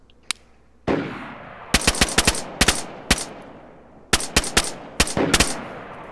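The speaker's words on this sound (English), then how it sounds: "You're shooting at him." Gunfire in a video game squad fight: sharp separate shots and rapid bursts, some close and loud, over a low background rumble, with no talk.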